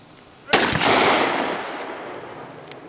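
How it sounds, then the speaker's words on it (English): Single loud gunshot fired outdoors at a campsite, a sharp close crack followed by a long rolling echo that decays over a couple of seconds. "Shoot again, shoot again!"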